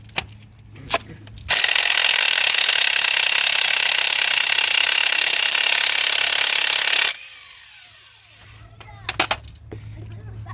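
A DeWalt 18-volt cordless impact wrench works on a seized 22 mm crankshaft bolt, hammering loudly and continuously for about six seconds between quieter handling clatter before and after.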